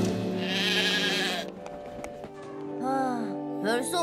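Sheep bleating in a Thomas and Friends cartoon: a wavering, nasal bleat up front, then spoken character voices with music underneath, and another short bleat-like wavering call near the end.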